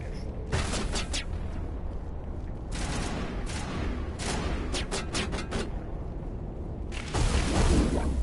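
Pistol fire in a Mass Effect Legendary Edition firefight on the Citadel: repeated sharp shots and booming impacts recur through steady combat noise, with a louder burst near the end.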